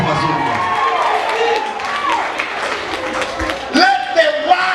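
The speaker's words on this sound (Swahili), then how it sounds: "Piga Yesu makofi mazuri" A church congregation claps and cheers for Jesus, a lively crowd noise with shouts and voices mixed into the clapping that carries on steadily and loudly throughout.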